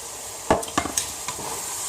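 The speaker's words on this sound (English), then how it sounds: "let the cloves of garlic kind of cook up a little bit" About six garlic cloves stirred into browning ground hamburger meat in a pan, a low sizzle under a few quick scraping clacks of a utensil, close and alone.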